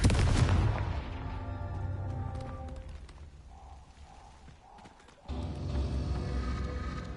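Confringo blasting spell in Hogwarts Legacy, a heavy boom at the start that decays into rumbling, followed by quieter magical chimes and another loud burst of impact noise toward the end.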